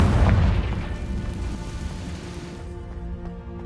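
A Confringo blasting spell in Hogwarts Legacy on PS5 erupts into one loud, deep explosion that booms at once and then slowly rumbles and fades away.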